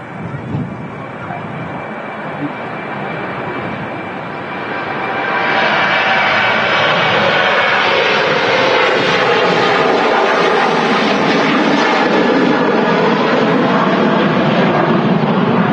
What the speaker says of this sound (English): Sun Express now rolling on 23 right,